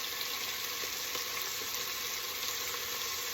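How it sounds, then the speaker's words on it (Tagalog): Chicken for tinola sizzles in a pan with fish sauce and pepper, a close, continuous hiss of frying that stays steady with no talking. "Habang ginigisa ko, naglalagyan na ako ng patis para lumasa siya sa chicken."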